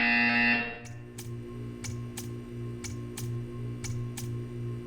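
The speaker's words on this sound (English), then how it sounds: "You will hear a buzzer." Short buzzer tones ring out in a steady series from the video game Portal 2, each one brief and sharp, sounding in a test chamber over a low ambient hum after a fading tone.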